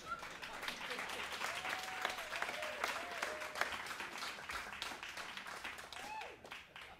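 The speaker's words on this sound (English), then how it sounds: "I'd like to have my applause right now." Audience applause fills a small live jazz club after a mandolin tune by a quartet, steady dense clapping lasting several seconds at moderate level, with whistle-like tonal squeals rising and falling over the noise.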